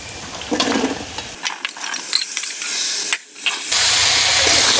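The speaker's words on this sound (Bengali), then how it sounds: "এখন আমি এর মধ্যে দিয়ে দিচ্ছি আলুগুলো" Potatoes tipped into a hot pan of fried onions and green chillies, setting off a loud hissing sizzle with clattering scrapes as they land and settle, close up and without talk.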